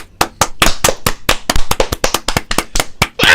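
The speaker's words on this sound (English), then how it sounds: "let's clap it." A handful of people clap together in a small room, the claps sharp, close and uneven, landing about four to five per second, with a brief pause near the end before a louder burst.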